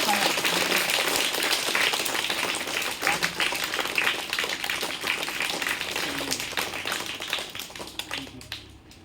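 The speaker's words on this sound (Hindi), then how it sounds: "मारो ताली जोर से।" Dense, steady clapping from a crowd at a school results and prize ceremony for classes one to five, cheering a third-prize winner. It continues for several seconds with voices mixed in underneath.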